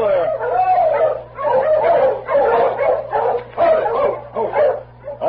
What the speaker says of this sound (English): These dogs look as if they've come a long way.